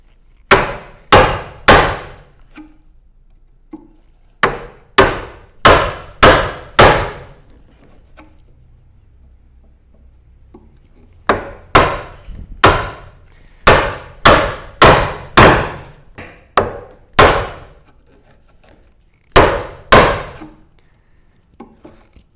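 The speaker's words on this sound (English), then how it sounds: "drive your chisel in and stand back and look at it occasionally" A mallet drives a chisel into wood at a Moravian workbench in loud, sharp, evenly spaced blows that come in bursts of several strikes, separated by short pauses.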